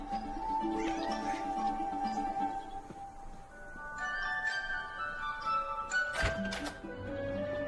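A cat meows in a few drawn-out, tonal cries amid a busy film soundtrack with music-like tones in the background.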